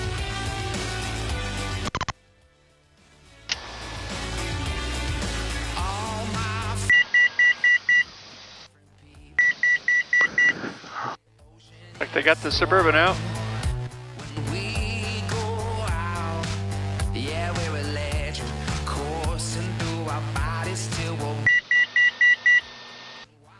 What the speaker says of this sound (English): I don't know what that beeping is.